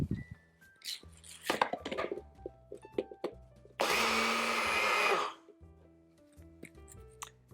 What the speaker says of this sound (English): That is blended plenty.